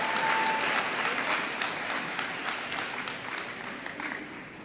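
Loud, sustained applause and clapping from an audience at a dental school white coat ceremony, honoring the students, dense and continuous and slowly tapering off.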